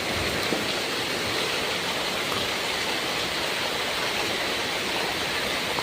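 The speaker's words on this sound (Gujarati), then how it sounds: "ભાઈ તો જો ભાઈ મસ્ત મજાનો વરસાદ આવી ગયા" Steady outdoor rain pours down in a village, a dense, even hiss with no breaks, loud and close throughout, with no voices over it.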